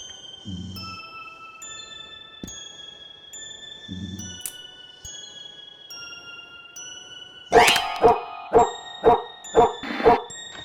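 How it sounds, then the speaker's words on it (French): Dog barking in the horror video game The Happyhills Homicide 2, a quick run of about six sharp, loud barks in steady rhythm near the end, after sparse thuds and electronic tones. "je m'attendais pas à ce qu'il y ait un chien."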